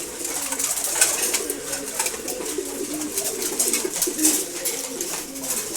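Racing pigeons and other pigeon breeds coo repeatedly at morning feeding, overlapping soft throaty calls near and moderately loud, with light rustling and occasional wing flutters.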